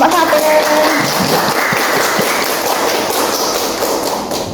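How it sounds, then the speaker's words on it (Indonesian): A classroom audience applauds a student group's presentation, a dense burst of clapping heard nearby that holds steadily and fades slightly toward the end. "Oke, tepuk tangan untuk presentasi kelompok 1."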